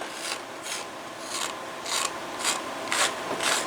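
Rough inside of a dyed leather holster being rubbed, giving about seven quiet, rhythmic raspy scraping strokes spaced roughly half a second apart, close and alone.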